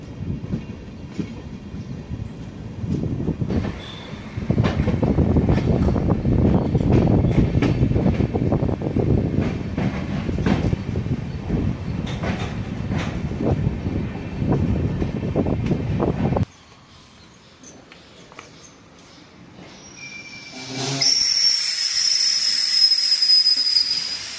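Kaveri Express pulling into Ashokapuram station with new coaches, a loud rolling rumble of wheels and carriages for about sixteen seconds, then a quieter lull before a rising hiss and high wheel squeal as it slows.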